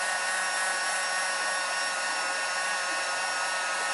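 Heat gun blowing hot air onto the adhesive seal of a Mk4 Jetta/Golf headlight to soften the cover, a loud, steady, close whooshing roar that holds unbroken throughout.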